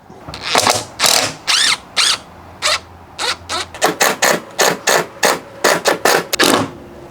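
A power drill driving 3-inch screws into an entry door frame: a rapid series of short, loud whirring bursts with brief gaps between them, close by and without talk.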